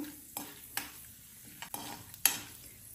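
Mustard seeds and chana dal fry in about a spoon of oil, giving a soft sizzle with several sharp spoon clacks and stirring scrapes against the pan.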